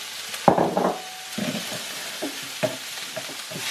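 Onions cooking down in a pan over lowered heat for steak and kidney pie filling, a gentle sizzle broken by several wooden-spoon stirring scrapes and knocks, close and clear without talk.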